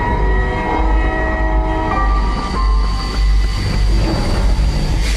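Train arriving from Pakistan at the Attari border station, a steady loud rumble of rolling wheels and carriages with a sustained tonal horn or whistle running through the whole stretch.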